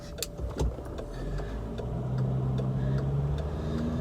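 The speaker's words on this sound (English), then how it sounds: "Bit of traffic, hang on." Road traffic passing by outdoors near a gathering of vintage Ford tractors, a steady low rumble of a vehicle swelling closer over a few seconds, with faint ticking in the background.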